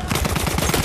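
Rapid pistol gunfire in the video game Battlefield 1, a quick burst of several sharp shots in fast rhythm, loud and close.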